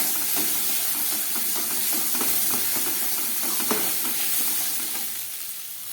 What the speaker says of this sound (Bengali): আদা রসুনের দেওয়ার পরে মশলাটা অনেকটাই ভাজা হয়ে গেছে আমার